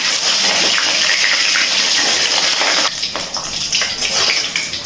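Mutton fat and two cardamom pods drop into hot oil, giving a loud, dense, hissing sizzle that holds steady, then eases slightly and crackles unevenly as the pieces settle.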